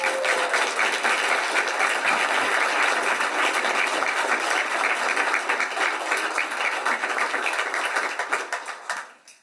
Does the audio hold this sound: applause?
yes